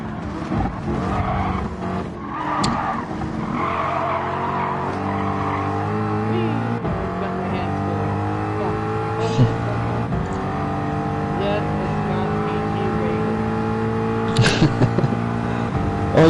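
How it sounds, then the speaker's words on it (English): Race cars in a driving video game, with a Mustang, a McLaren and a Supra among the pack, roaring steadily with engine drones and brief tire skids throughout, under a continuous game soundtrack. "Look at the gaggle of cars up here"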